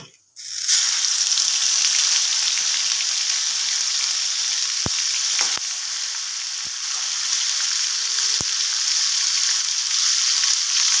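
Masala spice paste hits hot oil and sets off a loud, steady sizzle that runs throughout, with a few light utensil taps as it fries for a paneer dish.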